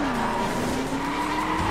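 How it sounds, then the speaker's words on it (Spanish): Car tires squeal in a continuous, loud skid during a drift in The Crew, a sustained tonal screech over engine noise with no voices. "Está difícil derrapar"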